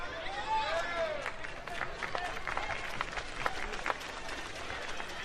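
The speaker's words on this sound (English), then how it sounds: "a ripple of applause around the stadium" A ripple of applause spreads around a rugby sevens stadium after a knock-on, steady distant clapping from the crowd with a commentator talking over it.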